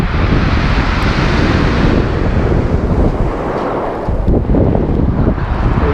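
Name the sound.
wind while lure fishing for bass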